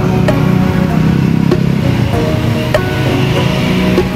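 A bus roars close by as it enters a toll road, its exhaust giving a loud, throaty, pulsing rumble that holds throughout, with no talking.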